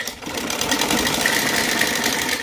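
A sewing machine runs steadily while stitching hosiery T-shirt fabric, a continuous close whirring motor hum with rapid needle clatter and no pauses.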